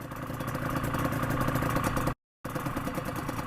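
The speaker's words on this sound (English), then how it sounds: "The Yamaha RD 500." A Yamaha RD 500 V4 two-stroke motorcycle engine runs steadily close by, with a busy, rattling mid-pitched drone and no talk; it cuts out briefly partway through before carrying on.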